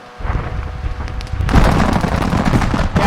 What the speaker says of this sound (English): He's going to give it another gun run.